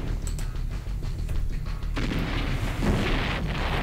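Booming explosions in C&C Red Alert as a grenadier is blown up, with a dense rumbling blast at the start and a second louder burst halfway through, all close and heavy.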